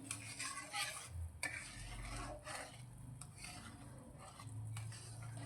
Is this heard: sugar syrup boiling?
yes